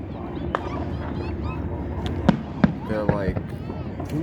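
New Year's Eve fireworks over Philadelphia and Camden, New Jersey, bursting up in the clouds, with sharp pops and booms over a dense rumbling crowd and wind wash, voices chattering throughout.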